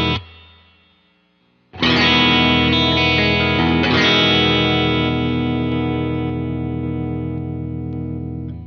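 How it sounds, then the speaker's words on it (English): Electric guitar played through a Ground Control Noodles pedal boosting the mids into a Fender Deluxe Reverb amp for math rock tone; a brief note, a pause, then loud sustained chords ringing out with a slow decay. "So I use this Noodles by Ground Control just to boost the mids ever so often,"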